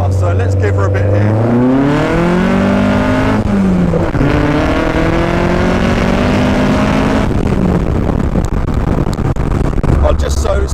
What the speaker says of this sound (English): I'll just see if I can give you a bit of the idea of the acceleration.